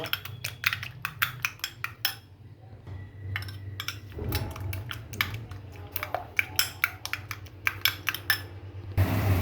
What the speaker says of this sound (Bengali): এতে ডিম অ্যাড করব, ফেটিয়ে নেব